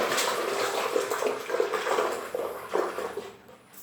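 Tap water runs steadily into a basin or tub to work up foam, a continuous rushing pour with slight surges that tails off near the end.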